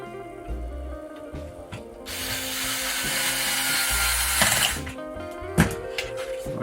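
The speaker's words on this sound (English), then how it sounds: "So again, I'll put these screws in and we'll come back in a minute." Screws are driven into wood for a pumpkin build, with ratcheting, whirring mechanical driving bursts of moderate loudness and a sustained grinding stretch in the middle.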